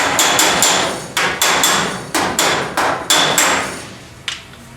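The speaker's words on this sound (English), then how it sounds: "Hammer on dolly, direct it." A hammer strikes car body sheet metal backed by a dolly, shrinking high spots in a dent repair, in a quick series of sharp, ringing metallic blows that slow and fade near the end.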